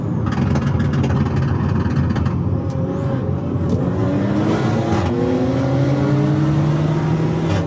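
A tuned Audi SUV of about 750 horsepower revving hard while racing, engine note rising steadily as it accelerates, loud and continuous with a constant roar of road and wind noise.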